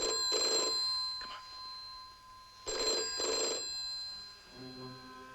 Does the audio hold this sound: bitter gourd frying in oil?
no